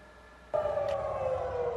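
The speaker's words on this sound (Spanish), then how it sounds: "Las sirenas sonaron al amanecer en Tel Aviv" An air raid siren warns of a missile launch over Tel Aviv at dawn. It starts abruptly and holds a loud, steady wail with one slightly descending tone.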